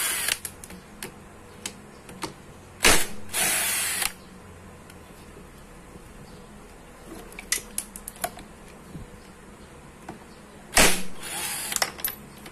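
A T-wrench backs 10mm screws out of a motorcycle fan cover, giving quiet intermittent metallic clicks and ratcheting scrapes, with a few louder bursts of scraping, close up and without speech.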